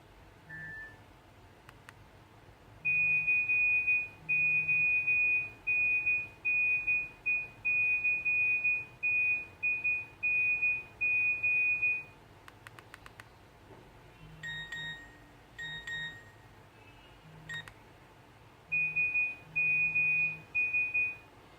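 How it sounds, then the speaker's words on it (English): Series of Nokia 105 message alert tones, short electronic beeping melodies played one after another with brief pauses between them, clear and close. "let's take a look at other things like the message alert tones"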